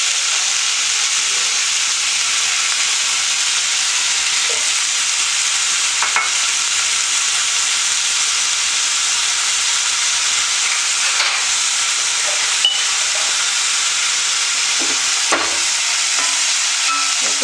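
Chopped onions with fennel seeds frying in a pan, a steady, loud, close sizzle that continues without a break, marked by a few faint clicks and scrapes of stirring.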